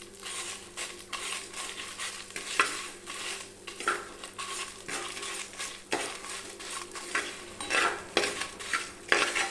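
Cumin and cardamom dry-roast in a pan for a village-style country chicken curry, with a spoon scraping and clinking against the metal in irregular strokes, fairly quiet and close, no voices.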